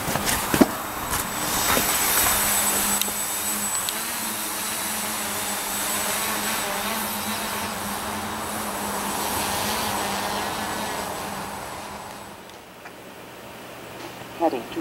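A hexcopter drone on an APM 2.6 flight controller flies an autonomous mission, its rotors giving a steady, loud whine that fills the whole stretch and eases slightly near the end.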